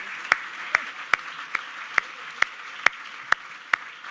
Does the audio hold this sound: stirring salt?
no